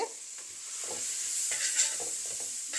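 Carrots and leeks sautéing in butter in a pan over lowered heat, making a steady close sizzle with soft stirring scrapes and no voices.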